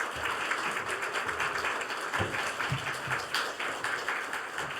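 A church congregation applauds to welcome a visiting pastor during Sunday worship, steady sustained clapping from many hands filling the room throughout.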